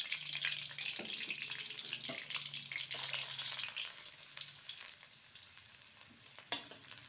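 Shallots and garlic fry in hot cooking oil for Cirebon-style pindang bandeng, a steady close sizzle with bursts of crackling and stirring, fading slightly toward the end.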